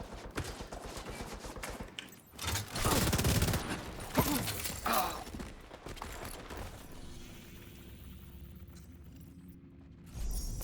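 Rapid gunfire bursts from a video game, loud and dense in the first half with rattling volleys and single shots, then fading into quieter background game ambience with a steady hum.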